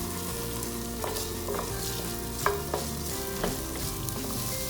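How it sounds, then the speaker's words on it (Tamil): Roughly chopped large onion sautéing in a pan for butter chicken pasta, a steady close sizzle broken by several sharp scrapes and stirs of a spoon against the pan, with no talking. "கொஞ்சம் வதக்கிக்கலாம்."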